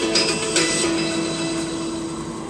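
Cabin of a Delta Boeing 737-900ER before takeoff from Minneapolis: a steady, loud, broadband drone of engines and air systems with a low hum running throughout.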